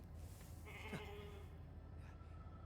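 A sheep in The Alters gives a single faint, wavering bleat over a low in-game hum, heard alone without talk.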